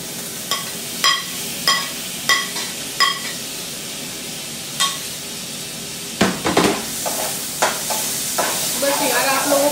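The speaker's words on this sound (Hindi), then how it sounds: "अब मैं इसके अंदर डाल रही हूँ टमाटर," Tomatoes tipped into a pan of frying ginger, garlic and onion paste: a run of sharp utensil knocks and clinks against the pan, then a loud burst of sizzling and stirring that continues to the end, no talking.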